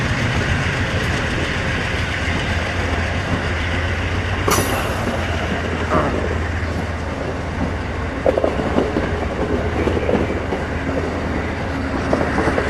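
The southbound Amtrak Crescent pulls out of the Lynchburg Kemper Street station in Virginia, a continuous rumble of railcars with rhythmic clickety-clack from the wheels and occasional squeals, steady and close throughout.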